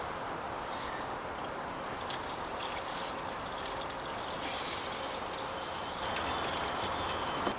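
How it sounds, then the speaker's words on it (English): Wort carrying hops and malt runs from a hose into the bottom of a brew kettle as a faint, steady pouring and trickling stream, with no pauses throughout. "and let it run out of the hose into the bottom of the kettle"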